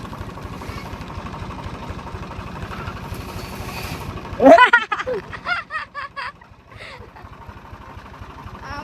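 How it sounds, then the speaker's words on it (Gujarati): A tractor engine chugs steadily with a low rhythmic throb, then a voice speaks briefly over it before the engine continues. "ટ્રેક્ટર કી સવારી"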